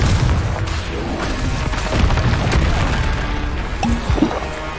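Confringo spell explosions in a Harry Potter video game, heavy booming blasts with crashing impacts, loud and continuous, no talking.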